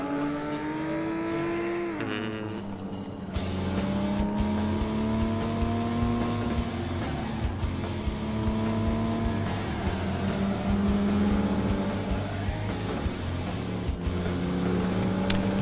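A car engine in the FlatOut racing game drones steadily and revs through gear changes, a continuous whining motor tone that dips and climbs again, with no talking over it.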